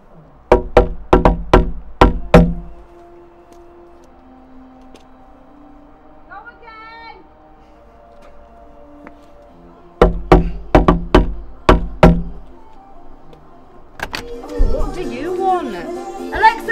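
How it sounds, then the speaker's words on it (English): Knocking on a door, two sharp rapid bursts of about six knocks each, loud and close, with music and other sounds between and after them. "As soon as you hear the music, knock."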